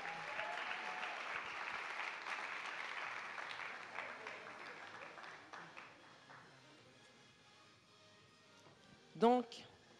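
An audience at a gala honouring women applauds in a sustained, fairly distant clatter of clapping that gradually fades out, followed by a short loud noise near the end.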